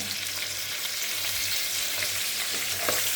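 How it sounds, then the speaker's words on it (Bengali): Pointed gourd pieces fry in a pan with a continuous close sizzle and scraping stirring sounds, no voices. "আর একটু নেড়ে চেড়ে পটলগুলো আমি নামিয়ে নেব"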